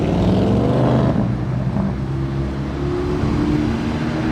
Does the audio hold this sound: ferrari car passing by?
yes